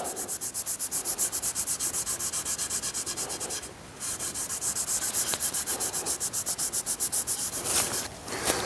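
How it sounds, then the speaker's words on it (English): Steady back-and-forth rubbing as a repaired wooden axe handle is burnished, a fast even rhythm of strokes close up that carries on with one short pause, no voices. "I'm gonna go ahead and burnish the entire handle, try to blend."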